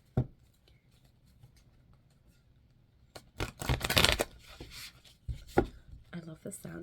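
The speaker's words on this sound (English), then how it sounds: "I love the sound of shuffling cards." Tarot cards are shuffled in riffling bursts of crisp flapping and tapping, soft and close, separated by short quiet pauses.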